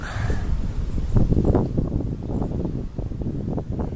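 Wind gusts buffet the microphone on a rooftop with a view of mountains, in rough, low rumbling bursts, loud and close, continuing throughout with no talking.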